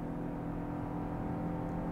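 Lexus LBX three-cylinder engine revving under hard acceleration, a steady muffled drone heard from inside the well-insulated cabin, continuous and moderately loud with no talk.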